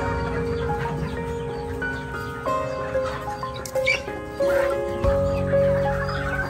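Pumpkin Hatch chickens feed on a farm in Surigao del Norte, clucking steadily nearby amid a busy mix of birdcalls and farmyard noise, under a voice.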